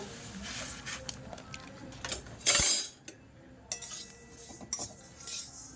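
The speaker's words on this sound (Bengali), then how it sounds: "কড়াইয়ের মধ্যে আমি প্রথমে তিলটাকে দিয়ে দেবো তিল তিলটাকে আমি ডাই রোস্ট করে নেব" Sesame seeds dry-roasting in a hot wok over medium-low heat, heard as scattered clinks and scrapes of a utensil against the metal with light patter, close and intermittent, with no talking.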